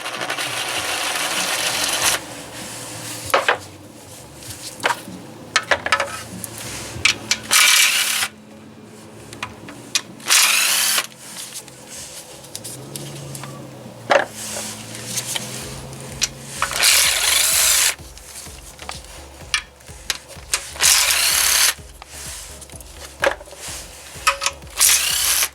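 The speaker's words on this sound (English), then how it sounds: "All the bolts will need to be removed with a 10mm socket now, the ones that surround the oil pan." A ratchet with a 10mm socket loosening the bolts around the oil pan on a Kia 1.8 engine (Forte, K3, Soul, Sportage), recorded close up as repeated bursts of fast clicking, separated by pauses and clunks of metal handling.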